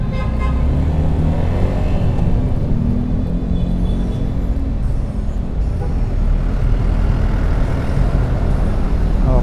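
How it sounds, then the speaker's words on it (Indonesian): Suzuki Gixxer SF 250 single-cylinder motorcycle accelerating hard in first gear, a loud continuous engine rumble with rising tone, heard close and steady throughout with wind noise. "motor 1 silinder ya, gigi 1 mas disentak tetap nendang sih, tetap nendang."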